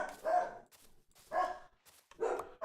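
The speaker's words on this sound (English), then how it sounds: "the puppies are on a roll today." Puppies bark in three separate short bursts roughly a second apart, close and clear, with quiet gaps between them and no talking.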